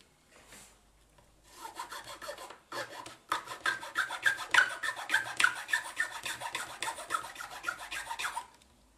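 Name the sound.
filing a plastic box to shape a connector hole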